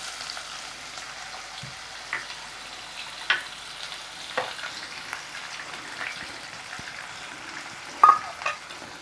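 Chopped onions fry quietly in oil, a soft, steady sizzle with scattered sharp pops and small clinks throughout, and no talk over it.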